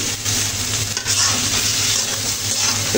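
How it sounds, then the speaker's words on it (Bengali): Tomatoes are stirred into cooked-down spices in a frying pan for a fish curry, a loud, close, continuous sizzle with scraping stirring strokes and an occasional light knock of the utensil. "টমেটোগুলো মশলার সাথে ভালো করে নেড়ে ছেড়ে দেবো"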